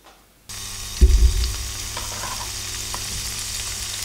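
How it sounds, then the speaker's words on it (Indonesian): Tofu drops into hot cooking oil and sets off a sudden loud burst of sizzling, which quickly settles into a steady, close crackle of frying with faint clicks. "Ini minyak untuk menggoreng si tahu dulu"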